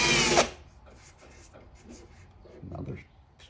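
A power drill bores out a spot weld on a square-body truck, a loud whining burst at the start that cuts off quickly, followed by quieter shop sounds with someone talking.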